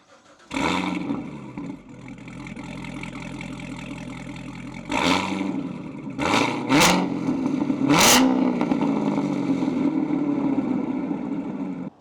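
A Corvette C7 Z06 engine idles with a deep burbling exhaust through a Corsa Performance Extreme exhaust and Cornerstone Double Helix X-pipe, then is revved sharply several times, each blip rising to a loud roar before settling back.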